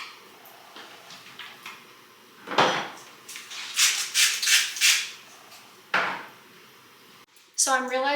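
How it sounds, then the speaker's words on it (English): A pot clattering onto a kitchen stove among sharp metallic clanks and knocks, several loud bursts in a domestic kitchen, with a voice heard briefly at the end. "So let's put this on the stove."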